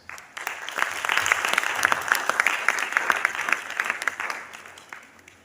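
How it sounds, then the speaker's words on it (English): A graduating medical class applauds at a gathering, sustained clapping from many hands rising quickly, holding steady, then tapering off near the end, fairly close and free of talk. "we give ourselves a big round of applause"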